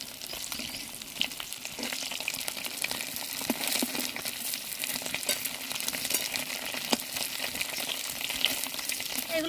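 Egg and soybean cakes crackle as they fry in hot oil, a continuous moderate sizzle with occasional pops and light stirring, no voices.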